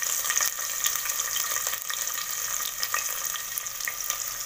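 Curry leaves and finely chopped large onion frying in hot oil for vegetable rice, a steady bright sizzle crackling throughout with occasional stirring, close and alone without speech.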